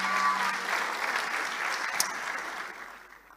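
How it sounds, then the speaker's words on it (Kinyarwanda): An audience at a book launch ceremony gives a steady, fairly even round of applause that holds throughout and fades slightly at the end. "reka dukomere Imana amashyi kubwiwe."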